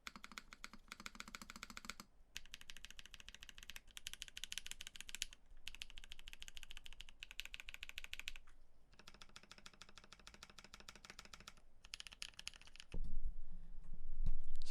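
Typing on a custom mechanical keyboard built with Holy Panda switches on a soft, flexy PBT plate: steady, close runs of thocky keystrokes with brief pauses, ending in a louder burst of handling noise.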